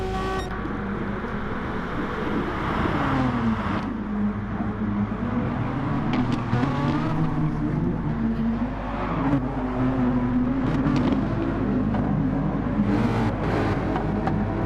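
Tuned Renault Megane race cars lapping Fuji circuit, a steady loud engine drone that rises and falls in pitch as the cars accelerate and shift, with occasional sharper clicks and bumps over the continuous roar.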